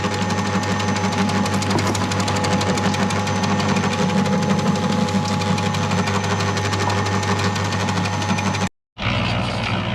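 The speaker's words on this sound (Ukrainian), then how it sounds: "змішуємо корм бетономішалкою" Concrete mixer on single-phase 220-volt power mixing animal feed inside a barn, a loud continuous mechanical rumble and rattle that cuts out briefly near the end, then resumes.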